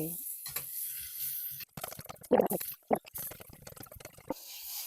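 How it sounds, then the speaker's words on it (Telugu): Onion pieces fry in a pan for a spicy bitter gourd curry with a hissing sizzle, broken by stirring clatter and a few louder bursts in the middle, close and fairly quiet. "ఉల్లిపాయ ముక్కలు కొంచెం వేగినాయండి"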